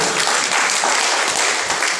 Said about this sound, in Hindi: तो कृपया जोरदार तालियां में एक बार बजा दीजिए।